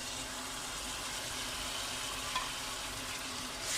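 Chopped tomato sizzles steadily in a pan for chicken keema with peas, a dense, even hiss that stays constant and close throughout, with no voices.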